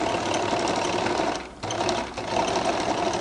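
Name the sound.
sewing machine stitching a flared skirt seam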